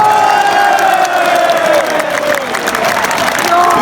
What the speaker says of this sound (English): Biggest cheer you're going to hear from us all flipping day.